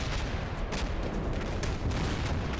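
Dense 25mm cannon fire and blasts in the Combat Mission: Black Sea war game form a continuous roar of overlapping rapid reports, with a few sharper cracks standing out from the thick rumble.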